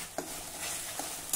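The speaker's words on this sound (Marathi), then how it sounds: "वाटण छान परतून झालं" Spiced vatan paste for Varhadi bajar dal frying and being stirred in a pan, a steady close sizzle with a few soft scraping knocks from the spoon over a short stretch.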